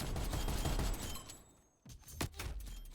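DMR-14 tactical rifle fire in Black Ops Cold War on the map Raid: a dense, loud burst of rapid shots, a brief lull, then a few more sharp reports with crackling tails.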